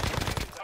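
Rapid gunfire bursts in the video game Call of Duty: Vanguard, a quick string of close, punchy shots that cuts off abruptly.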